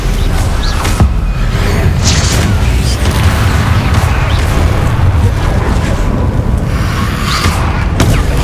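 Repeated Confringo fire-spell blasts in Hogwarts Legacy, a string of booming bursts and crackling impacts scattered across a dense, loud combat din, with shouted talk between them.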